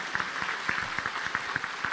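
A church congregation claps steadily together during Mass, the individual claps audible in a loose rhythm, filling a reverberant room.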